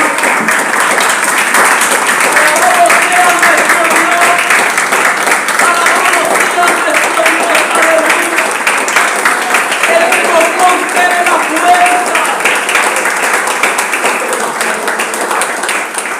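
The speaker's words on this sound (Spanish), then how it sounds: "Le invito a que le regalemos un fuerte aplauso a Él, hermanos amados" A church congregation applauds for God, giving a loud, sustained wash of many hands clapping together, with voices and chatter mixed in, steady for about sixteen seconds.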